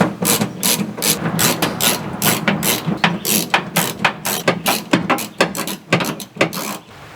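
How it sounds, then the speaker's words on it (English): A ratchet wrench tightens a bolt behind the windshield wiper motor of a Chevy Tahoe, clicking in quick repeated bursts of strokes, loud and close, with brief pauses between sets. "I'm going to start off with the bolt that's behind the windshield wiper motor, see if I can get it to tighten."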